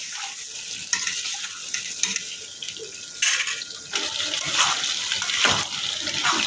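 Eggs and potato pieces fry in a kadai with a steady broadband sizzle, broken by repeated scraping and stirring bursts of a spatula against the pan, close and fairly loud with no talking.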